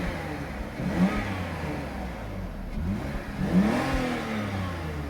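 A 2002 BMW 325Ci (E46) convertible engine runs steadily with a mid-pitched rumble, briefly revving up twice before settling back to a smooth idle.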